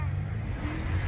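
A car engine drones and revs steadily up close, a continuous low rumble with no clear pauses, heard without speech over it.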